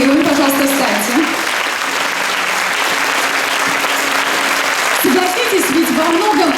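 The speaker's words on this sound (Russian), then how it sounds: "Давайте ей поаплодируем, пожалуйста, встаньте." An audience at a youth forum applauds the wife of Hero of Russia Damir Yusupov, steady clapping filling the hall for several seconds, with a voice speaking over it at the start and again near the end.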